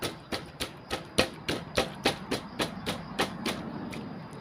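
Hammer blows drive something in firmly, about a dozen sharp knocks in a steady rhythm, close and clear over a faint background hum.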